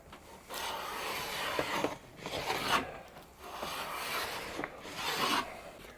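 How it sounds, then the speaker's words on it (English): A guitar body being sanded with 40-grit sandpaper on a block: steady rasping strokes that sweep back and forth in an even rhythm, close and alone. "I've got 40 grit sandpaper on this block, not too much downward pressure, and I want to keep it moving side to side"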